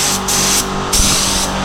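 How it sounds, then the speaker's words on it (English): Spray gun laying 2K paint onto a cattle fence as a test before coating a Lamborghini racecar part, with steady hissing bursts that start and stop in a few close passes, no talking. "We just paint the cattle fence around here to make sure the spray's right"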